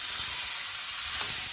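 Chicken sautéing for Filipino afritada crackles in a hot pan as it is stirred, a steady close-up sizzle with soft scraping bumps throughout, no talking.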